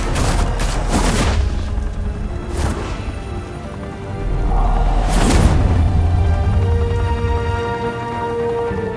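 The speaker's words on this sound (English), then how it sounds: "Open fire!" Gunfire erupts in the Batman: The Telltale Series video game as guns open fire, with several loud bursts and booms over a dense, rumbling battle din that lasts throughout.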